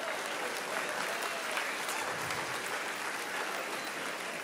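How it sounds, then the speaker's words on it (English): A church congregation applauding, a dense, even wash of many hands clapping that holds steady throughout, heard from within the room with no talking over it. "let's give a round of applause for all of our workouters"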